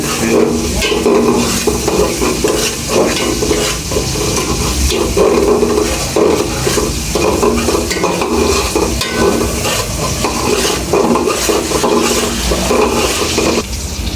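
Oil and spices are stirred and fried for vegetable khichuri in a home kitchen, with steady dense sizzling and repeated spoon scraping that run loudly and continuously throughout.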